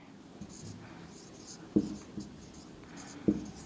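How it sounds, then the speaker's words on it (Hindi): Someone writes on a board with soft, faint scratching strokes, broken by a few sharper taps as the writing tool meets the surface, in a quiet room. "यहां पे लिखता हूं, रुक जाइए"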